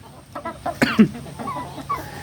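A fighting rooster gives a few short, throaty clucks close by, one burst louder than the rest, with quiet gaps between calls.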